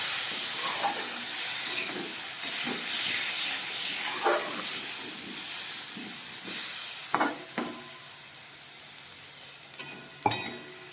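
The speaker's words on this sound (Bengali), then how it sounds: "পনিরের ঝোলটা ফুটে উঠেছে।" Paneer curry in a pan with a little water, bubbling and hissing steadily at moderate level, broken by occasional scrapes and clinks of a spoon stirring.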